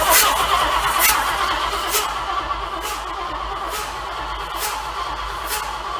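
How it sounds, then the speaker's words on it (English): A Chrysler Marine 360 engine cranks over on the starter without firing, a steady churning drone broken by regular rhythmic pulses, close and fairly loud with no talk. "then we are going to crank this engine over"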